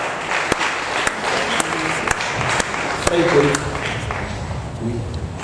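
An audience applauds a graduate receiving a certificate at an Emmaus Bible correspondence course ceremony. The steady clapping is mixed with crowd noise, with a voice speaking over it.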